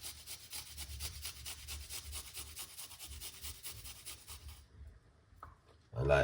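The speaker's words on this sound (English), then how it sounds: "get the garlic and grate the garlic like this" Garlic being grated, a close, quiet, rhythmic scraping and rubbing with regular back-and-forth strokes for several seconds before stopping.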